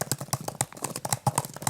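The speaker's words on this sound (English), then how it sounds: "this is how the keyboard sounds like on the Magic Keyboard" Keys tapped on an iPad Pro Magic Keyboard held close to the mic, a quick irregular run of soft, muted clicks with no talking.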